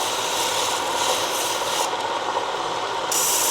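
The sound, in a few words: grinding back of rough opal on lapidary wheel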